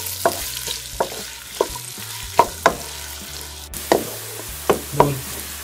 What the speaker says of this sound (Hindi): घी को मेल्ट कर लिया, अब हम इसमें प्याज शामिल कर लेंगे और प्याज को ब्राउन होने तक फ्राई कर लेंगे।